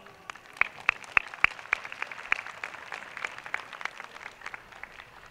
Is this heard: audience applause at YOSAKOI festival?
yes